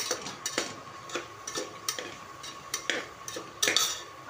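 Coconut powder roasts dry in a pot as a utensil stirs it, giving a series of light metallic scrapes and taps at an uneven rhythm over a faint background hiss.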